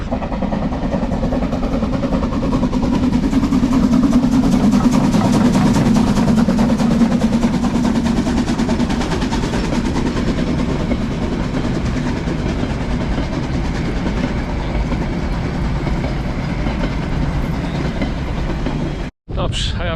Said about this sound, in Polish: I to pociąg lokomotywa parowa.